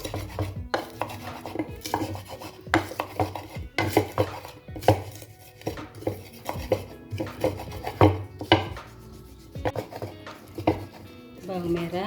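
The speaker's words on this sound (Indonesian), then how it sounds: "Bawang merah dan bawang putih sudah diulek, ulek kasar saja." Shallots and garlic are coarsely pounded in a mortar, giving a steady run of close, hard thuds and grinding knocks, with a brief voice near the end.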